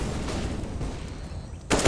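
Gunfire in the Counter-Strike video game during a fast A-site push in an ESL Challenger League match: dense, continuous shooting crackles throughout, swelling into a louder burst near the end.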